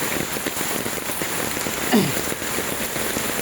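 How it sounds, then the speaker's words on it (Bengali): Heavy rain pours down steadily, a dense, constant hiss of drops striking surfaces close by, with no voices. "এত বৃষ্টি আসলে প্রচণ্ড বৃষ্টি"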